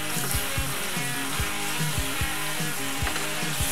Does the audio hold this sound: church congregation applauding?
no